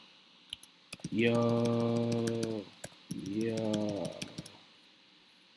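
Quick clicking keystrokes on a computer keyboard scatter through the clip in short bursts, close and crisp, with someone talking in drawn-out tones over much of it.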